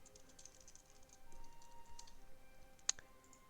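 Quick, light taps on a computer keyboard during a Dungeons & Dragons session, an irregular run of soft clicks with one sharper, louder click near the end, quiet and close by, with no talking.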